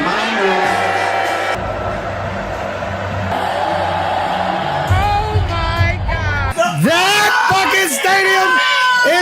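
A packed stadium crowd screams and yells at full volume in a continuous roar of voices. Its texture shifts briefly midway, then swells again with loud whoops and shouts.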